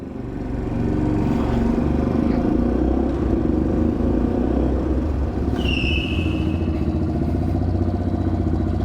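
A Honda Papio SS mini motorcycle engine runs loud and steady nearby, a constant buzzing drone that carries on as the small bike drifts, with a brief high whine partway through and no talking.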